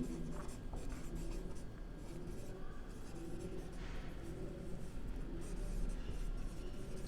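Chalk or marker writing on a board during a chemistry lecture on hybridization: soft continuous scratchy strokes over a low room rumble, quiet and close, with no speech over it.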